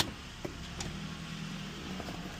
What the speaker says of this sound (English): we're gonna back off the vehicle off the ramps